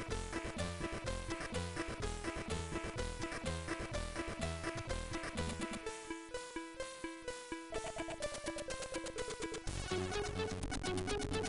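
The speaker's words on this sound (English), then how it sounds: "It's that classic SID chip sound." Commodore 64 video game music from the SID chip, with buzzy square-wave melody and bass lines over a fast, steady rhythm, including a brief thinner section, played fairly quietly with no talk.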